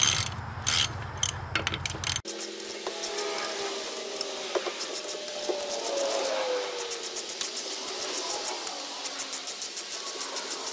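Wheel nuts being spun off counterclockwise from the rear drive hub of a Universal Bren Gun Carrier, with rapid ratcheting clicks in repeated bursts from a close hand tool and some scraping of metal.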